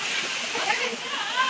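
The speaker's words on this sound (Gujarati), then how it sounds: "તમે અહીંથી જોઈ શકો છો ધોધ પડે છે." A waterfall at a temple site pours in a steady rushing splash, while a person speaks over the falling water.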